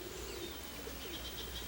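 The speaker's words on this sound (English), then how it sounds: "Look at these birds." Pigeons or doves cooing softly in the distance, faint low murmuring calls over a steady noisy outdoor background.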